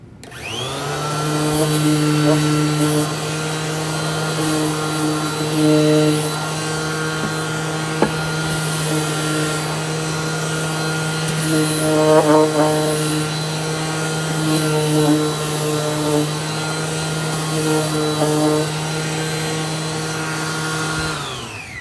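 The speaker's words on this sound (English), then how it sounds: "I just have this really awesome handy cordless sander" A cordless power sander runs continuously with a steady motor hum and rough grinding texture, near and loud, its pitch wavering slightly as it moves.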